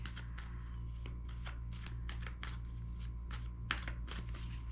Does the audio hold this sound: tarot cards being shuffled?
yes